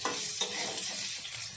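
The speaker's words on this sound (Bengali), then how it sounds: "এখন তেলের মধ্যে আলুগুলো দিয়ে ভেজে নেব।" Potatoes dropped into hot mustard oil in a pan give a loud, continuous close-up sizzle with no voices.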